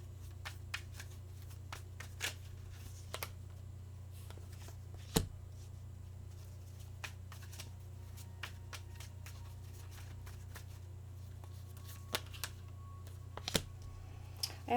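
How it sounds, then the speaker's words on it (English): Tarot cards being shuffled and drawn, with soft, sparse clicks and snaps of card stock scattered over a steady low hum, quiet and close. "we'll just draw a couple more cards here to take us into the near and more"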